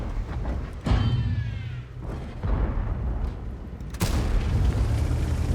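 A tank cannon in the World of Tanks game fires with a deep boom, followed later by another heavy blast, over a steady low engine rumble and battle noise, with no talk.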